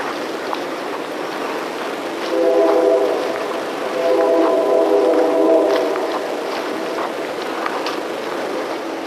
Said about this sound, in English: every time I come back in these woods, there's trains